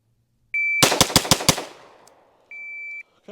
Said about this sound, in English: 5 shots again